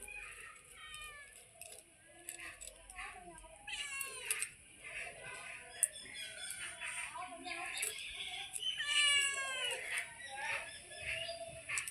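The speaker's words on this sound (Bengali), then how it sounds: "ম্যাও ম্যাও করছে খাওয়ার জন্য" Several cats meow repeatedly for food beside a kitchen where river fish is being cleaned and fried, their rising, overlapping cries coming close and fairly loud over low household background noise.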